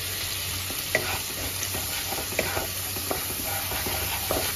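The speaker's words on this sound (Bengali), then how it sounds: "মশলাটা একটুখানি কষিয়ে নেব।" Spice masala of cumin powder, turmeric and salt with a splash of water stir-fried in a pan, giving a steady close sizzle with repeated light scraping strokes of a spoon, no voices.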